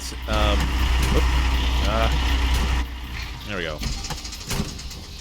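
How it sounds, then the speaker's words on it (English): A loud, steady tractor engine rumble in the video game Gold Rush: The Game runs for the first few seconds and then cuts out, with someone talking over it. "Man, this tractor's super loud."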